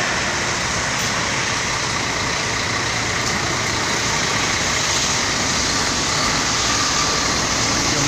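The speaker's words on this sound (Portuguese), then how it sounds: "filmar esse carro sair aqui" An intercity international-service bus, number 3314 of Empresa Nuestra Señora de la Asunción, gives a steady, fairly loud diesel engine rumble as it pulls away, with a broad continuous road-noise hiss and no voices.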